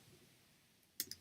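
A computer mouse clicks a browse button in inventory software: after near silence, a sharp close click followed by a second quicker click pair at the end.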